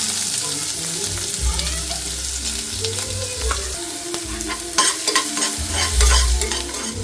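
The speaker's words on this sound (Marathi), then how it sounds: "इथे जिरं मोहरीची फोडणी दिले, तडतडलेत चांगले, आणि त्यामध्ये टाकणार आहे कांदा" Onion sizzles in hot oil tempered with cumin and mustard seeds. A continuous close crackle runs under steady stirring and scraping in the pan, with no talk.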